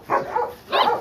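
Two short bursts from a German Shepherd dog, each a pair of close, fairly loud barks or yelps, alone with no talk over them.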